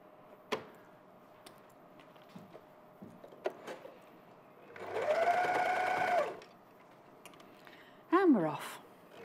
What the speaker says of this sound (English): The overlocker is amazing.